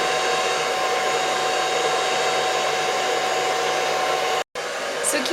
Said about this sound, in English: Just take little sections of your hair and blow dry it from the root, wrapping the hair upside down.